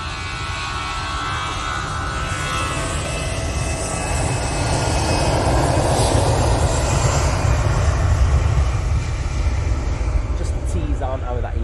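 An aircraft passes at Manchester Airport, a sustained engine roar that swells gradually toward the middle and stays strong, with a voice talking faintly underneath.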